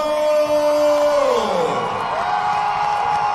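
At a fight event, a loud crowd whoops and yells for local fighter Stephen Tuggle, a sustained wall of cheering with a long rising-and-falling wail riding over it.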